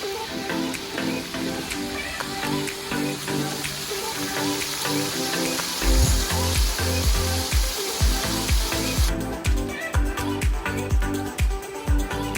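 Mutton pieces frying in oil with whole garam masala for dum biryani: a loud, continuous sizzle and crackle that grows harsher midway, with repeated thudding knocks of stirring in the pot, close up and without speech.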